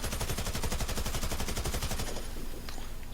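Rapid automatic fire from the SED machine gun in a video game, a loud steady burst of closely spaced shots lasting about two seconds before it stops and a faint click follows.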